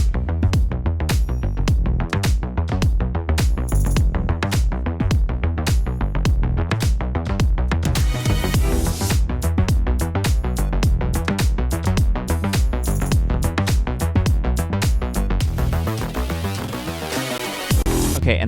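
Full electronic track combining drums, bass and strings: dense, driving percussion hits pound steadily under sustained string and bass layers, loud and continuous, with a brief swell and a rapid roll near the end.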